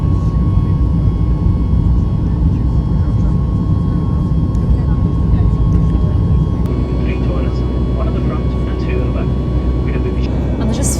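A loud, constant roar of jet engines fills an airliner cabin in flight, a steady drone with a few faint clicks, and speech is also present.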